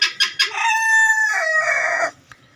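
A rooster crows loudly and close at night near pet chicks and ducks, a few short clucks leading into one long drawn-out crow that fades, followed by a faint click.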